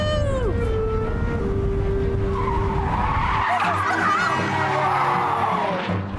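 Vintage Alvis cars zoom along a street, engines revving loud and close, with a whining, skidding edge and a long steady drone through the whole stretch.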